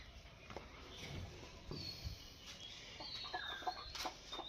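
Hens cluck in a poultry shed, scattered short clucks and chirps over a low background hum, quiet and somewhat distant.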